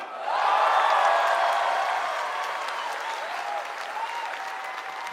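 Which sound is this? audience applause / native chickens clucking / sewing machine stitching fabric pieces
audience applause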